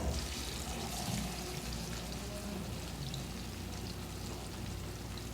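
Fish, including carp, fries in hot oil with spices in a home kitchen, giving a dense, steady sizzle and crackle at close range without speech.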